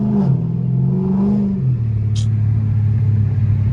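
A straight-piped widebody Dodge Scatpack pulls at wide-open throttle, a loud, close, deep exhaust rumble whose pitch climbs, drops at a gear change, then settles into a sustained drone.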